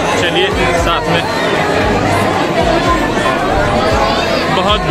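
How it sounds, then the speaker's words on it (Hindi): Dense crowd chatter fills a busy temple in Ayodhya, a steady loud babble of many overlapping voices with footsteps and movement, continuous and close throughout. "बहुत भीड़ है।"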